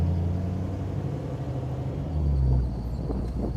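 A 1934 Plymouth engine rumbles close up as the car pulls away, a low steady drone that swells and rises in pitch before easing off, with a few clunks toward the end.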